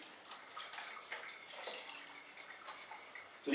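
Water poured from a small bag into a pan of tomato sauce in a home kitchen, a steady close splashing trickle running for a few seconds with a louder bump at the end.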